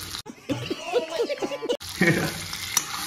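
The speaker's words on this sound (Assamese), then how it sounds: "এতিয়া গাহৰি দিয়া হ'ল এতিয়া আপোনাৰ ভাজিব লাগে" Pieces of pork frying in a pan, a crackling sizzle with stirring scrapes, close, running beneath a voice speaking and brief laughter.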